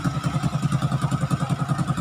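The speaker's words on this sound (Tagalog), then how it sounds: "Napakatahimik na makina." A Honda XRM 125 motorcycle engine runs at a steady idle after a CNC bore job, with an even, rapid low thumping pulse and light mechanical clatter, close and alone.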